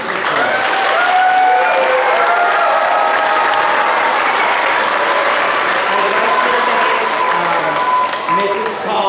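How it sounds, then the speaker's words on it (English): Audience applauds steadily for a school choir at a spring concert, a dense, sustained clapping filling the room with a few voices murmuring underneath. "Another round of applause for this magnificent choir."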